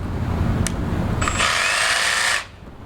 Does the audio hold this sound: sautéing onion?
no